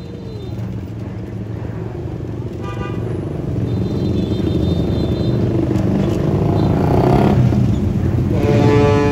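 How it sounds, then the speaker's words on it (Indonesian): Dense crowd of motorcycles, including big bikes, idling and revving at Merak harbor at night, a steady loud rumble of engines with scattered horn toots throughout and faint voices mixed in. "Ribuan motor tuh, dengan motor besar."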